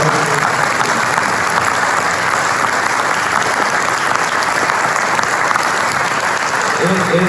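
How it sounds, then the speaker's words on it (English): Dense, sustained audience applause at a city council candidates forum, loud and steady throughout, a large crowd clapping together without any speech on top. "Why don't we give applause to the..."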